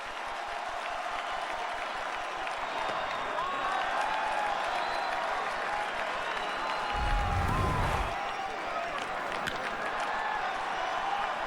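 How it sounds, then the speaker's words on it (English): Baseball crowd at Wrigley Field buzzing and applauding for Jorge Soler at the plate, a steady far-off wash of cheering and clapping that swells briefly midway. "Crowd is buzzing."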